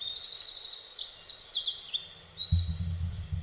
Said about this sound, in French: Les oiseaux, le cours d'eau